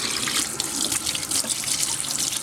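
Filtered water runs steadily from a kitchen faucet just after an under-sink 5-stage filter install, a continuous close hiss and splash into the sink with no talk.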